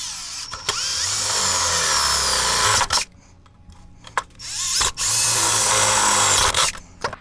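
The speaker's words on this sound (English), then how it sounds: "Let's drill some holes." A power drill bores holes through a GPS mount in two long, loud, steady whining bursts separated by a brief quiet pause, with short clicks and knocks between them.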